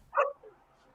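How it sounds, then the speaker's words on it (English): A dog gives one short bark with a brief softer follow-up, somewhat distant and fairly quiet against a still background. "Will you shut your dogs up over there?"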